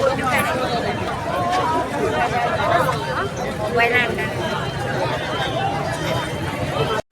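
Village crowd lining both sides of a road to see off the elephant Madhuri, a continuous babble of many voices with chatter close by.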